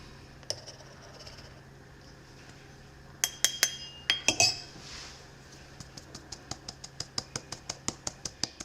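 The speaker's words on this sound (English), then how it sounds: "now we are going to sift in a 1/2 cup of just regular all-purpose flour" All-purpose flour is sifted into a bowl for a brownie pudding: a few scattered metallic clinks, then a steady series of evenly spaced, light ticking clicks, close and fairly quiet.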